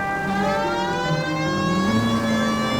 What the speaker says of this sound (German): dann machen wir die Sirene an